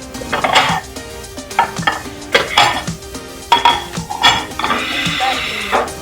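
Plates, pans and cutlery clink and clatter up close in a kitchen as dishes are readied for serving, with irregular knocks and scrapes and a faint sizzle from cooking.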